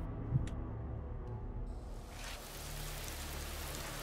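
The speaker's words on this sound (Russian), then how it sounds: "Опять дождь" Steady rain falls in a video game as a soft, continuous broadband patter, low in level, with no voices.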